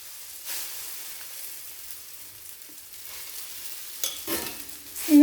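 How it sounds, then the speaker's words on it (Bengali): Oats omelette batter fries in oil in a pan with a soft, steady sizzle. It stays faint throughout and swells slightly louder near the end. "এইভাবে সব অমলেটগুলো ভেজে নেব। তেল দিয়ে দিলাম, তেল মেলে দেব। 3 চামচ ব্যাটার দিয়ে দেব।"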